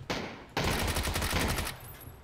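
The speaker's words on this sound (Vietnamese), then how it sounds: "Hai team nó vẫn bắn nhau, chưa bắn xong đâu" Gunfire between two teams in a video game, a short burst followed by a longer rapid automatic volley, loud and dense, then cutting off, with no voices.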